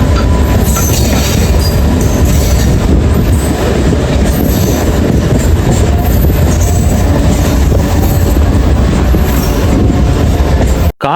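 Loud, steady rumble of a crowded passenger train running on the tracks between Chennai and Coimbatore, with continuous wheel noise, rail clatter and faint squeals throughout, cutting off abruptly at the very end.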